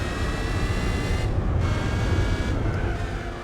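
Unmodified race car engine in Gran Turismo 4, a steady loud droning roar holding close and constant for several seconds with slight shifts in pitch.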